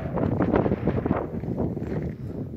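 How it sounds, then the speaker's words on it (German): Wind blowing by a lake in open country between Santa Fe and Colorado, a low, fluctuating roar buffeting the microphone steadily for a few seconds with no voices. "Bisschen windig."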